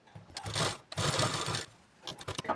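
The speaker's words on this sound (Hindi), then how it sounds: "इसको ना इस तरह से तिरछे पे हम सिलाई लगा करके डाट देंगे।" Sewing machine stitching a slanted dart on a blouse, running in close, loud bursts with short pauses between runs of stitches.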